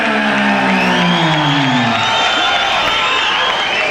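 A capacity crowd cheers and whoops in the Crown Casino showroom before a boxing bout, a loud, continuous roar filling the room, with a low announcer-like voice sliding through the first two seconds.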